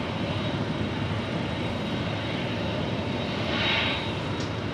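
Steady, loud aircraft engine roar from an airplane on the runway at LAX, a continuous broadband drone that swells slightly near the end, with no voices.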